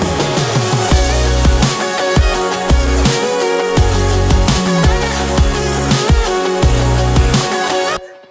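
An electronic song's drop plays loud and dense, with a processed vocal melody over punchy bass hits and a steady beat. It runs continuously for about eight seconds, then cuts off abruptly.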